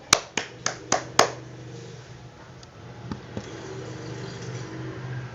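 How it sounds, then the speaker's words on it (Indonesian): A handful of children clap in a Grade 3 class, five sharp separate claps in a quick, uneven rhythm, then fading into a murmur of room noise and a soft hum. "Tepuk tangan dulu untuk kita semua."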